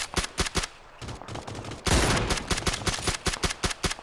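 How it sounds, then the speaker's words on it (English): Gunfire in PUBG: Battlegrounds, a close, loud run of sharp, rhythmic shots in quick bursts with a short sustained blast in the middle, no talking. "Let's shoot them."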